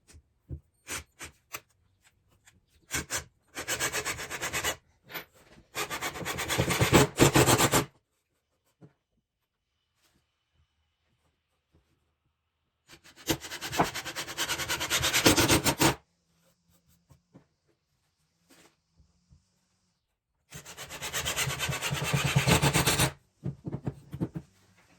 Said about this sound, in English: This drill is really loud.